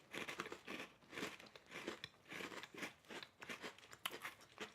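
Someone bites into and chews a Caruso's Dark Cream sandwich cookie, a steady run of faint, close crunches repeating throughout.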